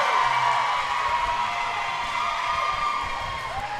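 A cheering section at a roller derby bout roars from below, a broad crowd din with shouts and whoops that holds steady and fades slightly toward the end.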